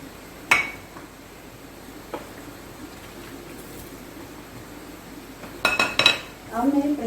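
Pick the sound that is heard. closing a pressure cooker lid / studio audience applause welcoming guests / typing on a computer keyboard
closing a pressure cooker lid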